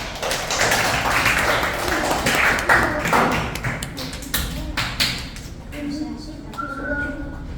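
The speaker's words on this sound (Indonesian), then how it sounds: "Kasih tepuk tangan untuk kita semua." Students in a classroom clap together under ongoing chatter and a teacher's voice, the applause loud at first and thinning into scattered taps toward the end.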